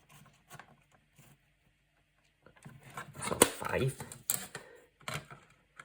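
Paper for a soft-spine mini book is cut to size with a crafting trimmer or blade, giving a short run of close scraping and slicing noises after a quiet start, with small taps and rustles around it.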